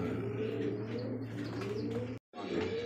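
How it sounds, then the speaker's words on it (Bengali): A pair of racer pigeons coo steadily close by, with soft, low, repeated throaty notes and a brief moment of silence near the end. "আরো এক জোড়া কবুতর এটা হচ্ছে রেসার কবুতর"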